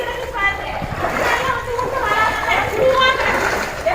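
Rain floodwater splashing and sloshing inside flooded houses, a steady wet churning that runs continuously at close range with voices mixed in underneath.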